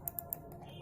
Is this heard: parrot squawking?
no